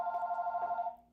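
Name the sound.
telephone ringing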